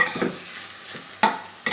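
Pork is stir-fried in a pan, probably with fish and shrimp, for a pumpkin and pork coconut curry: a steady faint sizzle with a few sharp scraping strokes of the spatula, close and alone.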